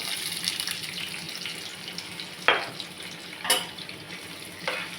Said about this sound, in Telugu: ఒకసారి కలపాలి గోల్డ్ కలర్ వచ్చేలా కలపాలి